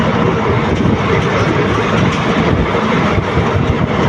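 Palani to Pollachi passenger train running at speed, a loud, steady broadband roar of wheels and carriage noise with faint clickety-clack running throughout, heard close from on board with no talking.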